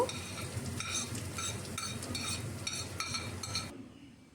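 Chopped onions and green chilies stirred into hot oil with whole cardamom, cloves, cinnamon and cumin, a steady sizzle with regular scraping and clinking strokes of a spoon in the pan, no talk.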